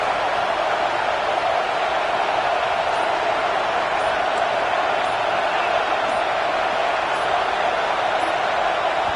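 A college football stadium crowd roars as the home fans force a false start, a dense, steady wall of loud noise that holds without a break for the full stretch.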